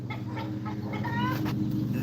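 Silkie chickens and other hens cluck in a short series of soft, close calls over a steady low background hum, with no talking.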